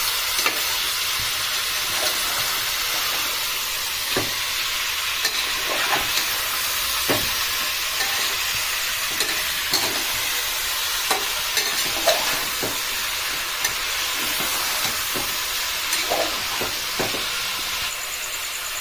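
Country chicken curry sizzles and fries steadily in a pan, with a continuous hiss broken by repeated scraping stirs throughout, close and fairly loud with no talk.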